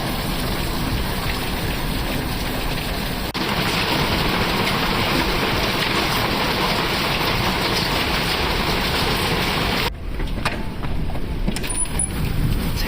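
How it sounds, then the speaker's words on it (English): Dense, steady patter of hard pellets striking surfaces, loud and continuous throughout, with a brief shift in texture near the end. "It's hailing now."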